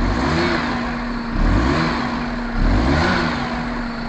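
A Perodua Kancil car engine with faulty wiring and slow throttle response idles with a steady hum and rises twice in short revs, close and fairly loud, with no voices.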